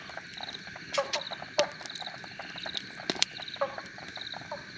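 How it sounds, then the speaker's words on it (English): Frogs croak at night around a motorcycle campsite, scattered short calls popping out over a steady chorus of insects, fairly close and moderately quiet. "Hear them frogs?"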